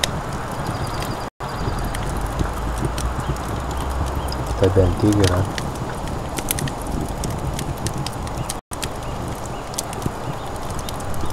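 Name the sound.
horse hooves clip-clopping in the video game Rust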